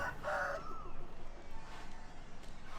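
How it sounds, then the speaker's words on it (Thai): A rooster crows once, brief and fairly clear, among fighting roosters kept in pens at a cockfighting spot in a village-like neighbourhood in central Bangkok, with faint background noise after. "เจอพอดีเขาเลี้ยงไก่ไว้ข้างข้างหน้าตรงเนี้ย เยอะเลย"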